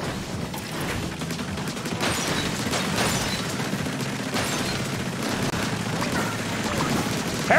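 Missile explosions from the Splatoon 3 video game, with dense bursts of booming, crackling blasts piling up continuously and loudly, and a voice speaking over the barrage.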